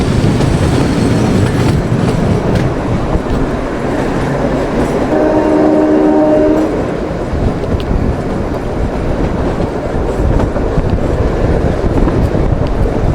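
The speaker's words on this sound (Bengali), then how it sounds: "আমি এই প্রথমবার কালকা সিমলা টয় ট্রেনে জার্নি করছি।" Kalka Shimla toy train running along its mountain line, a steady rumble and rattle of wheels and carriages, close and continuous, with a brief tonal horn-like note partway through and wind buffeting the microphone.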